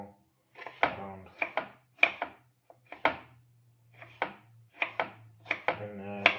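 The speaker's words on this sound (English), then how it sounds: "Now I chop it down on the chopping board." Tomatoes chopped on a wooden chopping board in a village kitchen, a dozen crisp, evenly spaced knife knocks, close and distinct, with a voice talking in between.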